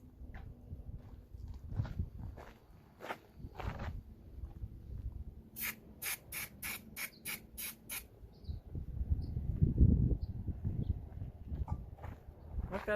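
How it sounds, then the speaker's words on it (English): Several short, sharp bursts of aerosol electrical contact cleaner hiss in quick succession onto a corroded trailer plug, amid faint handling clatter and shuffling. "we're going to spray it with a little bit of this electrical contact cleaner"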